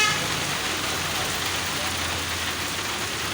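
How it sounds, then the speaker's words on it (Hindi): Steady rain falls over Peoples Colony in Rawalpindi, a dense continuous hiss filling the whole stretch at an even level, with faint traffic rumble underneath. "सब लोग की तरफ से खूबसूरत बारिश का नज़ारा"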